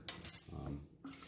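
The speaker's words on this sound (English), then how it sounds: "So I'm going to start to add this sugar." Sugar is tipped into a brewing vessel for a Belgian IPA and stirred, giving a short metallic clink and rattle of a spoon, then a brief softer scrape, close and fairly quiet.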